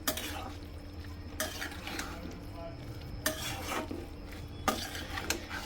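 Boiled vegetables stirred in a pot for veg biryani: soft scraping and clanking of a spoon on the metal in several separate bursts over a faint low sizzle.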